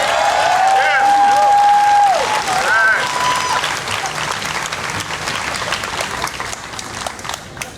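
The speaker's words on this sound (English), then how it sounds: "Let's give her a round of applause." Loud crowd applause fills a rally against hate in Jacksonville, Florida, with sustained clapping and some cheering that gradually thins out, while a whistle-like tone rings briefly early on.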